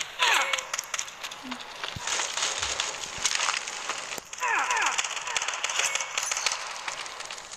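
Gunfire in a video game, with dense rapid bursts of shots, metallic clatter and impacts throughout, loud and close with brief lulls between volleys.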